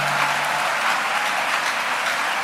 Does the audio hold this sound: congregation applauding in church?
yes